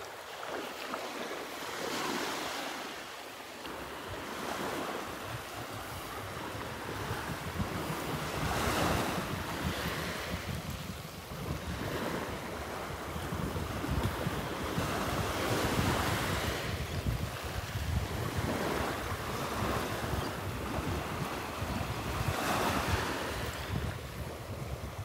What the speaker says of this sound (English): the little waves have definitely picked up a little bigger than this morning